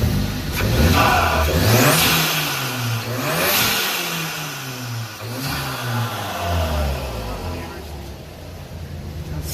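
A 2016 Audi S3 fitted with Integrated Engineering turbo bolt-on parts revs up and down in several loud, rising and falling engine sweeps, with people talking over it throughout.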